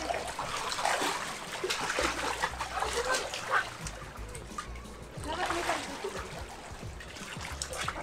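Swimmers splash and churn water in a Bestway Steel Pro above-ground pool, with continuous nearby sloshing in bursts while people talk excitedly over it.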